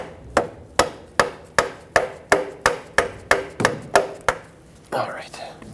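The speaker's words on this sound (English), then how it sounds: "maybe give it a couple taps with a hammer or rubber mallet" A hammer strikes a starter motor on a 2011-2016 Ford F-350 6.2L V8 about a dozen times, each sharp metallic tap in a steady even rhythm, close and clear, with a faint scrape at the end.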